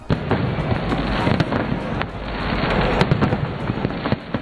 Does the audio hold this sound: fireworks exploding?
yes